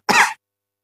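One short, sharp cough into the crook of the arm, close and loud, followed by silence.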